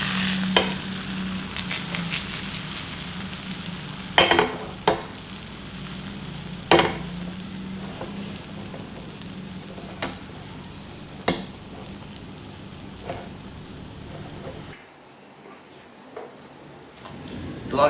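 Thin egg batter with a little flour sizzling softly in a pan as a paper-thin omelette, a steady quiet fry broken by occasional sharp clicks and scrapes of a utensil, ending in near silence.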